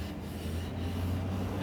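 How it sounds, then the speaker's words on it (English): A sanding sponge rubs steadily along the edge banding of a wooden board, making a continuous soft scratchy hiss with no pauses, close and fairly quiet. "I'll just go ahead and sand the rest of this board"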